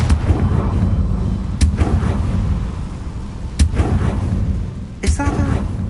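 Blasting-spell explosions in a video game, with several sharp booming bursts spaced a couple of seconds apart over a steady rumbling background, and a brief voice near the end.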